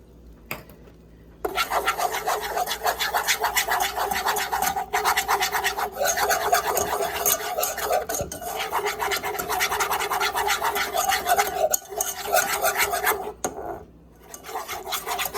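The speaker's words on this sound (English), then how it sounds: "Now you want to continue to stir because you don't want the flour, this mixture, to start burning." Spoon stirring a flour and butter roux in a pan for mac and cheese, a continuous close scraping and rasping with steady rhythmic strokes, loud and alone after a short quiet start.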